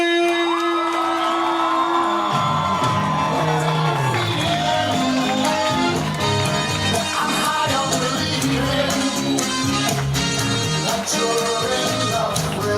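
Wedding guests at a reception erupt in loud, sustained cheering, whoops and shouts for the newly introduced couple, a dense crowd roar over music that continues throughout.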